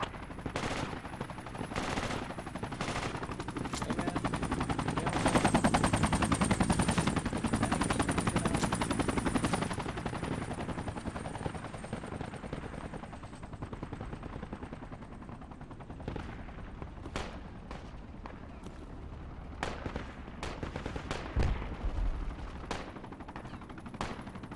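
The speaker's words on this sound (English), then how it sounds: "We got something shooting at us at that hill." Enemy gunfire in the military shooter Project Reality, steady bursts of machine-gun and rifle fire crackling in the distance across a busy battlefield, with sharp isolated shots punctuating the later stretch.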